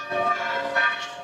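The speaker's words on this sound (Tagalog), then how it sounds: "Narinig niyo yung bell? Ibig sabihin nun, lunch na." A bell rings out over Rome at lunchtime, a resonant metallic toll with long humming overtones swelling twice, heard from some distance with no voices.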